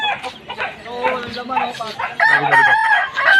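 A rooster crows close by on a riverside street, one loud drawn-out call with clucking fowl around it, while people talk nearby.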